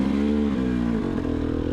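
A KTM 300 XC-W two-stroke dirt bike climbs a rocky trail, its engine droning steadily near and loud with a brief dip and pickup in revs, no voices over it.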